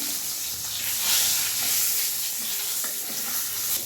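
Whole garam masala and a bay leaf fry in hot oil left over from browning potatoes for a mutton curry. A steady, close sizzle with light stirring runs throughout.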